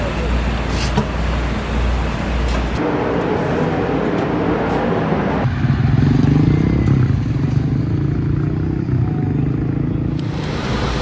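Sprint cars roar around the Tulare Thunderbowl dirt oval during a World of Outlaws heat race, a loud continuous engine drone with shifting pitch as the pack passes, while an announcer talks over it.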